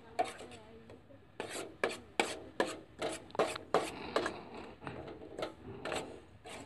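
Homemade rohu fish bait stirred without pause in a pan, giving repeated rough scraping and rasping strokes in an uneven rhythm, close and fairly loud, with no voices.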